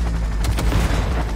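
Loud, close burst of gunfire from the video game Cyberpunk 2077, a dense run of rapid shots and booms with no talk over it.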